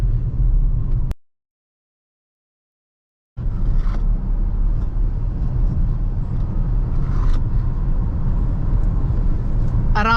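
A Volvo XC40 Recharge electric SUV with 408 hp accelerating hard from 30, heard from inside as a steady low road and motor rumble that cuts out briefly near the start, then carries on.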